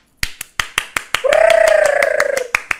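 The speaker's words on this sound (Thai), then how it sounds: "ท่านไหนได้แต้มแรกไปปรบมืออาจารย์" Students in a Thai teacher-exam tutoring class clap for the teacher, a few sharp separate claps followed by a sustained vocal tone with rhythmic clapping underneath, close and loud.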